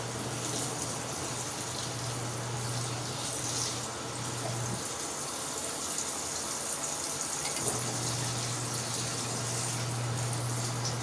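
Water pours and gushes steadily into a portable mini twin tub washing machine, a continuous close running-water rush with a low hum that stops partway, then returns.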